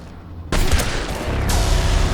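Gunfire in the Mass Effect 3 video game during a combat fight, a sudden loud burst of shots that keeps roaring on as continuous dense fire and booms, close and forceful.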